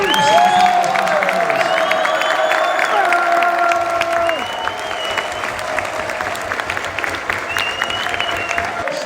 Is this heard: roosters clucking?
no